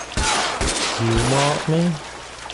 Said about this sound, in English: You would think the rifle would be more powerful.